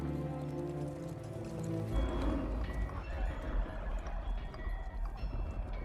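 Horses carrying mounted riders in a war film about Henry V leading the English army, with steady hoofbeats and occasional whinnies under a loud, dense battlefield score filling the whole scene.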